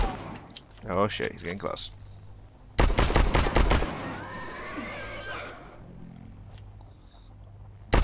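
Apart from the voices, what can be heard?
gunfire of sulfur bullets in video game StarForge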